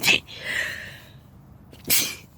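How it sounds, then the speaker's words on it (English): A single sharp human sneeze bursts out close up, preceded by a quick inhale and followed by a breathy exhale and a second short puff of air. "Hold on, I gotta sneeze."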